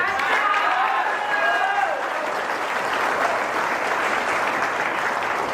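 An audience at a PT BEST company gathering breaks into applause, a dense, loud wash of many hands clapping that holds steady throughout, with a few voices briefly mixed in at the start.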